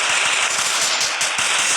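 Rapid bursts of gunfire ring out in the video game Free Fire, dense and continuous over a steady game soundtrack, loud and close throughout.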